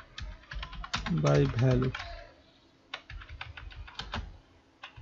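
Computer keyboard typing in rapid clustered keystrokes, close and clicky, with someone speaking briefly in the middle between bursts of keys.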